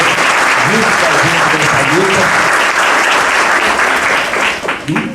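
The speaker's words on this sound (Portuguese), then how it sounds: "Então eu peço uma salva de palmas ao doutor Décio" An audience at a lecture on workplace accidents gives Dr. Décio a loud, steady round of applause that fills the room and stays dense for about five seconds.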